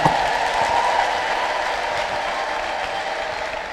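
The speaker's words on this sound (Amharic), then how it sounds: "ለጌታ ልልታና ጭብጨባ አምጥስቲ" A church congregation applauding and ululating in praise, a sustained dense burst of clapping with high trilling voices that starts loud and slowly tapers over a few seconds.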